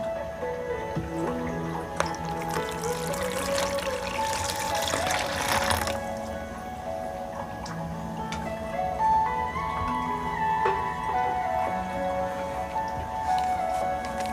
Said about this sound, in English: we will put the water into the bowl